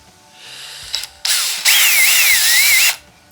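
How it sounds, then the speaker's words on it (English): A power drill bores clearance holes in gaskets during a Honda CB650 bobber pod-filter setup. A brief start is followed by a loud, steady whine that wavers in pitch as the bit cuts, with no voices. "I'm just going to drill each one. It's not that critical, it's just a clearance hole."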